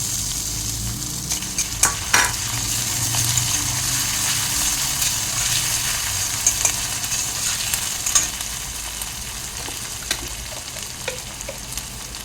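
Ginger, green chilli and asafoetida sizzling steadily in hot oil in a pan, a loud continuous frying hiss broken by a few sharp clicks and scrapes of stirring, with no voices.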